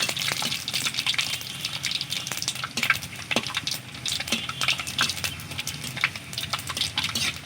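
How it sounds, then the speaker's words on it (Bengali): Dried chillies, five-spice seeds and bay leaves fry in mustard oil in a wok, giving a steady, close sizzle with crackling pops and no talking. "কড়াইয়ের মধ্যে সর্ষের তেল আর ফোড়নে দিয়ে দেবো শুকনো লঙ্কা পাঁচ ফোড়ন আর তেজপাতা ফোড়ন ভেজে নেব"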